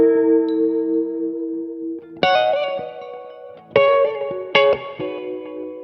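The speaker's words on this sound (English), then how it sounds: "one obvious telltale sign that you do have binding somewhere is that telltale ping that you get" A sustained electric guitar tone with heavy effects, then three sharp metallic pings from string binding on a Bigsby tremolo ring out one after another over the held note, with no talking.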